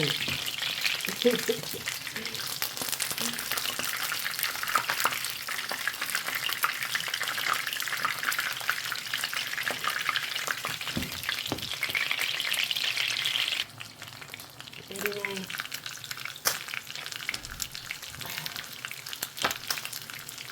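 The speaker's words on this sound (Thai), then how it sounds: "แค่ทอดปลาใช่" Fish fries in hot oil in a pan, a steady crackling sizzle that runs throughout with occasional stirring scrapes and a brief drop in intensity partway, close and moderately loud.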